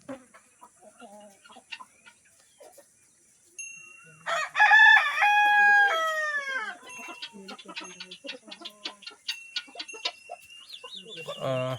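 A rooster gives one loud, drawn-out crow, then scattered clucks and short calls from nearby fowl follow; a little faint talk at the start.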